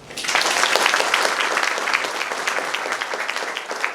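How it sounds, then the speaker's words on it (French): An audience at a training ceremony for newly recruited contract workers bursts into steady, dense applause that fills the whole stretch, loud and sustained with many hands clapping together. "nous applaudit d'abord"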